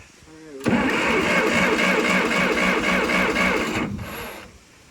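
A Case backhoe engine that is getting no spark cranks over with a rhythmic, chugging whir for about three seconds without catching. A brief voice comes just before it.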